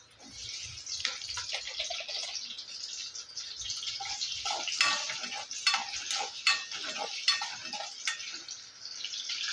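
Cut potatoes fry in oil in a pan, a bright, crackling sizzle that swells and stays busy throughout, broken by stirring scrapes and light clinks of a spoon against the pan.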